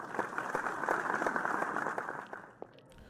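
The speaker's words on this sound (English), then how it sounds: "All right, we're applauding." Applause at a graduation ceremony in The Crooked Man video game, a steady patter of many hands clapping for a few seconds before tapering off, moderately loud with no voices over it.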